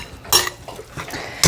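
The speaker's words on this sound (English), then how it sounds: "we're going to go kind of stir that in as best we can." Meatloaf mixture being stirred in a bowl for an easy meatloaf, a few short scraping and clinking knocks of utensil against the bowl spaced across a brief, close moment, with no talking.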